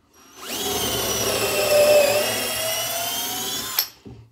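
A Parkside 12V PBSA 12 D4 cordless drill spins up with a high whine, holds a steady drilling pitch for a few seconds, then stops with a short clunk.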